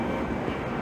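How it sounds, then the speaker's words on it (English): Continuous low, dense rumble of a train on the rails, steady and moderately loud throughout, with no voices. "That's a train on track 22"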